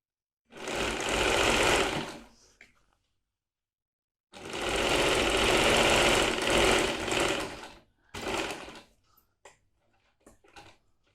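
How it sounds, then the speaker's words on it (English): Sewing machine stitching a yoke on fabric, running in two sustained bursts of steady rapid whirring and stitching, then a shorter run with a few brief clicks as it slows and stops; close and clear with no talk. "Put your needle down, turn like this, and machine it once more."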